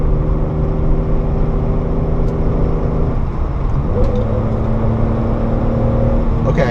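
A 1987 BMW 325is E30 inline engine hums loud and steady from inside the car while driving, with a shift in engine tone around the middle as the revs change, and no speech over it.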